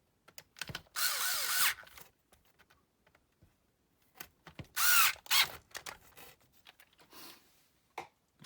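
A power drill drives screws into RC shock towers on a TRX4 crawler. Two loud, short whirring bursts are separated by quiet handling clicks and small mechanical taps, all close up.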